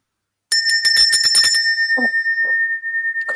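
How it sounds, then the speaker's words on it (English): A bell rung vigorously, a fast run of bright metallic strikes that leave a long sustained ringing tone, loud and close, followed by a few softer knocks and handling sounds. "Should I ring the bell now?"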